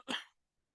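A single short, close cough from a man who is still unwell, a sharp rough burst that cuts off quickly into silence.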